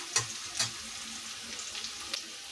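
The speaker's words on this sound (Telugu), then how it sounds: "పచ్చిమిరపకాయలు కూడా వేసేస్తుంది ఒకసారి కలుసుకున్నాను ఇవి కొద్దిగా వేగనిద్దామండి" Green chillies sizzle in hot oil in a pan, a steady crackling fry with a few sharp pops and stirring scrapes, close and fairly quiet with no one talking.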